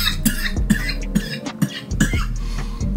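A string of harsh, close coughs, several bursts in quick succession with short gasping pauses between them.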